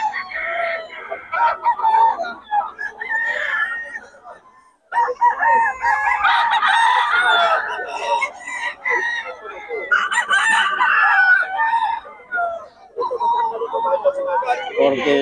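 Gamefowl roosters crow repeatedly at a busy market, loud and overlapping with clucks and voices talking throughout.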